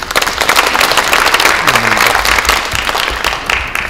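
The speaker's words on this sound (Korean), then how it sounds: "마지막 인사를 해주신 우영근 대표님께 힘찬 박수 부탁드립니다" Applause fills a Korean party caucus meeting as the audience claps for a departing leader after his final remarks, dense and steady throughout with a faint low voice briefly underneath.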